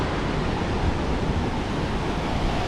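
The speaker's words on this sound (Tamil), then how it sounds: "பாருங்க அப்படியே கடல்" Sea waves at Galle Face beach in Colombo, a steady broad wash of surf mixed with wind rumble, loud and continuous with no voices.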